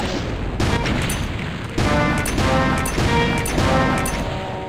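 Loud rocket launcher explosions in the shooter Doom: The Golden Souls 2, several heavy booming blasts in quick succession, each leaving a rumbling tail before the next.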